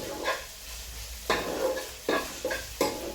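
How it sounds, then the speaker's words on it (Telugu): Onions and tomatoes fry in oil in a pan with a soft steady sizzle, broken by four sharp stirring scrapes and clacks of a utensil against the pan. "ఫస్ట్ ఆయిల్ వేసిన తర్వాత ఆనియన్స్, టమాటో, ఉల్లిపాయ ఇట్లా వేయించుకోవాలి"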